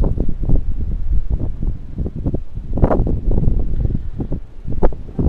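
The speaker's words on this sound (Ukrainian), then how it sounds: "вітер виє" Gusty spring cyclone wind roars and buffets steadily across a rural farmyard through the whole stretch, with louder surges near the middle and end, dense low rumble throughout.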